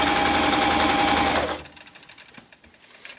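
A sewing machine runs fast and steady while stitching around the neckline of a homemade tank top, then stops abruptly, leaving quiet fabric handling.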